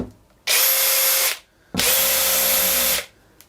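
A DeWalt DCF860 impact driver running on a Ceenr battery gives two loud, high-pitched whirring runs of about a second each, separated by a short pause.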